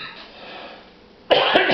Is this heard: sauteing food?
no